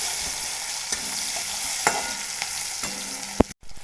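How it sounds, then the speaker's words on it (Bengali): Chopped onion stirred in the hot oil left from frying pangas fish: a dense frying hiss broken by several sharp scrapes of the spoon against the pan, then a quick pause at the end. "পেঁয়াজ কুচি দিয়ে নাড়াচাড়া করে নেবো"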